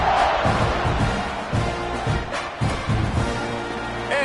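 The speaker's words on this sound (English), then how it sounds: "this crowd is feeling themselves after that last drive." Stadium crowd in an American football video game, a loud continuous roar of cheering with swelling bursts and rumbling stomps throughout.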